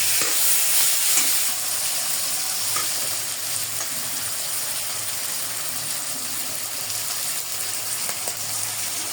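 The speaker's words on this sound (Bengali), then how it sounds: "এখন আমি মটরশুঁটি আর টমেটোগুলো পেঁয়াজ মরিচের সঙ্গে" Peas and tomatoes fry with onion and chilli in a pan for a rohu fish curry, a steady close crackling sizzle with faint stirring scrapes, no voices.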